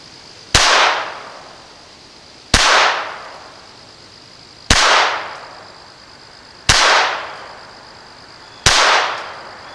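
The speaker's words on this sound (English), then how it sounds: "this is the first time I fired this gun" Five sharp, loud gunshots from a Taurus TX22 pistol, fired on a first outing at an evenly spaced pace about two seconds apart, each crack trailing off into a short echo, with no talking between them.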